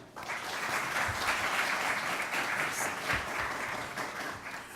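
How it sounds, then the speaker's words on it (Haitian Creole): A student audience at a Saturday morning debate session applauds the arrival of a speaker, producing dense, sustained clapping that swells quickly and holds steady for several seconds, fairly close and loud, with no speech over it. "nous capable applaudir l'arrivée de Pierre Fondi"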